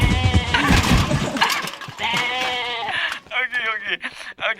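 A goat bleats repeatedly in a wavering, comic sound effect of a man tumbling down stairs, mixed with thumps and shouts, followed by several shorter bleats with a voice talking over it.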